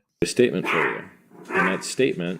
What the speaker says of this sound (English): I got a little tiny chihuahua that likes to bark rarely, as you can hear.